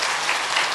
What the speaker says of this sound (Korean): 우리 박수로 환영하며 축복하겠습니다